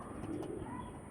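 Andhra pigeons coo quietly in a loft, a faint, continuous low burble without talk.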